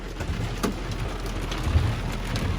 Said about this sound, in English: we just got caught in a big old hailstorm